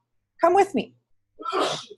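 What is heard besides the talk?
sneeze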